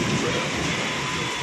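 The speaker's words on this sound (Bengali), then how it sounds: "আরো জোরে বৃষ্টি এসে গেল।" Heavy rain during a lightning storm, heard from indoors near an open doorway, a dense, loud roar of downpour with a low rumbling undertone, steady across the short stretch with no talking.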